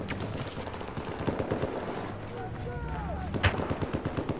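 Gunfire in a Battlefield 4 match, including sniper shots, heard as distant cracks and scattered pops among battlefield noise, with a sharper report near the end and a voice talking over it.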